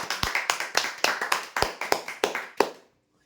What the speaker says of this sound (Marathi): जोरदार टाळ्या होत्या यांच्यासाठी